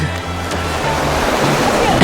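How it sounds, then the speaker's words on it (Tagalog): Rushing river water on a mountain hiking trail in Ala Archa near Bishkek, Kyrgyzstan: a loud, steady broadband wash of flowing water, close and continuous, with no talk over it. "Maririnig nyo ang lagas-las ng tubig."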